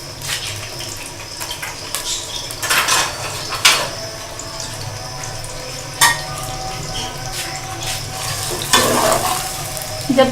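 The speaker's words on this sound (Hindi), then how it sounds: "पहले हम 1 प्याली ऑयल डालेंगे मसाला बनाने के लिए और इसमें प्याज ब्राउन होने के लिए डाल देंगे।" Onions frying in a cupful of oil for a masala, a continuous close sizzle with occasional stirring knocks and pops against the pan.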